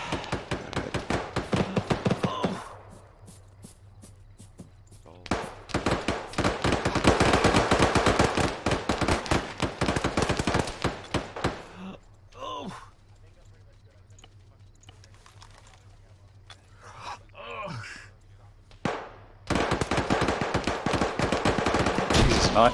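Gunfire in a video game shooter, long loud bursts of rapid automatic shots broken by quieter gaps, with people talking over it.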